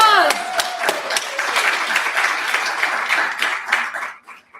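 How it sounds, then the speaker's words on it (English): An audience at the LSE Africa Summit debate between Imperial College and LSE gives a round of applause, loud dense clapping with sharp individual claps standing out, fading away at the end. "so let's give a round of applause"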